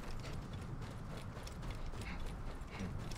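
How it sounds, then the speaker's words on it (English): Horse hooves clip-clop in a rhythmic, fairly quiet trot in the video game Assassin's Creed Origins, with no talk over them. "Where's my horse? There's my horse."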